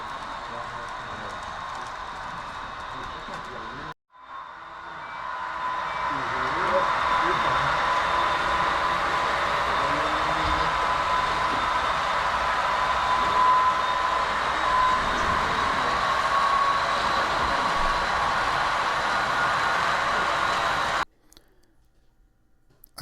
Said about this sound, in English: Passenger and freight trains were running, pulled by steam, electric,